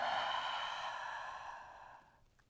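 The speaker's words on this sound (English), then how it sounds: "Open the mouth, exhale." A single long open-mouthed exhale during an advanced yoga flow, soft and breathy, close to the mic and fading out over about two seconds.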